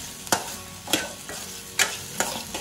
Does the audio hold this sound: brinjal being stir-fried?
yes